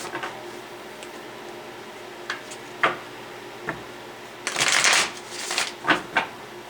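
Tarot cards are shuffled close up: a few soft riffles and taps, then a brisk burst of shuffling followed by several more quick card snaps.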